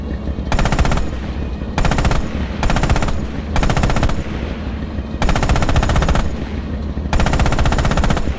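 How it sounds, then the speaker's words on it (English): A tank's hull machine gun fires in Red Orchestra 2: Heroes of Stalingrad, loud sustained automatic bursts separated by short pauses, seven or so strings of rapid fire over a steady engine rumble. "Use the hull MG and open fire on the targets"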